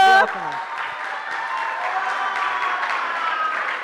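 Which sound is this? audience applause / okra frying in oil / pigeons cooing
audience applause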